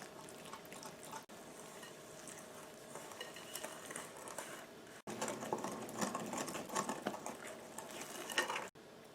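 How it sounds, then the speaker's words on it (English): Liquid ingredients for chocolate peppermint cupcakes are stirred into the dry mixture, giving a continuous wet, scraping churn of utensil against bowl with faint clinks, steady and close, with brief pauses between passes. "let's go ahead and add the liquid ingredients into the dry mixture. And we're just going to mix that all around."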